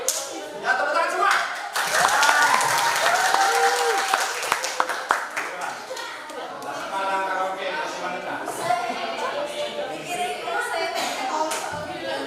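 Audience applause in a classroom-style session, loud dense clapping with occasional sharp claps, mixed with voices and what sounds like singing or melodic talk running underneath.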